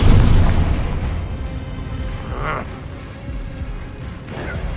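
A Confringo fire spell blasts in the video game Hogwarts Legacy, giving a loud, heavy boom at the start that fades into a rumbling tail, with smaller bursts following and some voice underneath.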